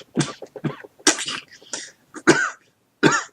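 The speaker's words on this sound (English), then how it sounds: "My cough is preventing me from actually talking about it" A man coughs repeatedly in harsh, close bursts, five or six rough coughs spaced unevenly with short silent gaps, loud and alone without speech.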